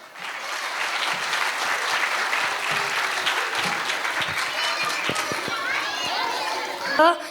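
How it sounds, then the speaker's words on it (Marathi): Audience at a school gathering claps steadily in a dense, continuous round of applause, with children's voices and chatter mixed in and a brief louder burst at the end. "टाळ्यांचा आवाज कमी आहे."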